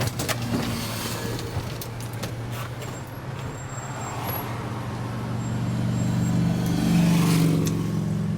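A slow vehicle driving along a road past national parks, a steady close engine drone with road and wind rumble that swells slightly toward the end, no talk.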